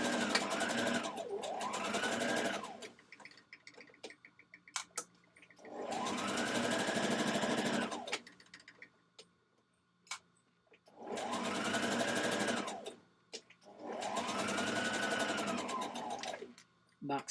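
A sewing machine runs a quarter-inch seam on the pockets of a Vogue 1236 dress in four separate bursts of rapid, close whirring stitching. Short quiet gaps with small handling clicks fall between the bursts.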